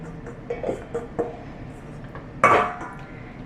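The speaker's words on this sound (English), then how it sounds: "Adding the cheese into the hot wine." Cheese dropped all at once into hot wine in a cooking pot, heard as a brief clattering clink of utensils against the pot after a few faint knocks.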